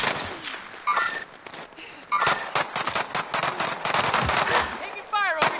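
Rapid gunfire and scattered shots crackle in bursts during a shooter video game tournament match, with players talking over the shooting.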